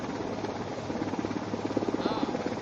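A navy helicopter's heavy, continuous rotor drone at a naval display in Visakhapatnam, close and loud, with a pulsing chop growing stronger toward the end.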